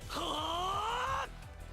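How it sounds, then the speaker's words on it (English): An anime character lets out a strained, drawn-out yell lasting about a second, pitch slowly rising, cutting off abruptly over a faint rhythmic background. "More yelling!"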